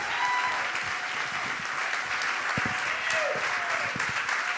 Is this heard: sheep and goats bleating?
no